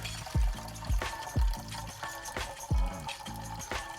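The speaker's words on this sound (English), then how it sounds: "We'll go ahead and go with the pour. There you go. There's the nice little pour." Beer poured into a glass, a close liquid glug and splash in repeated surges roughly every half second to second, with no talk.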